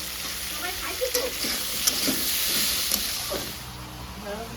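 Hissing sizzle of bitter gourd frying in hot oil, with a few soft stirring scrapes and faint background voices.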